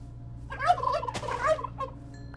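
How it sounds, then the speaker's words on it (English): A turkey gobbles in a video game, a single close, loud warbling gobble call standing alone over a low steady background hum. "I picked up a turkey."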